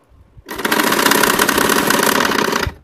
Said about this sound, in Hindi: हम ये यहाँ से सिलेंगे धीरे धीरे से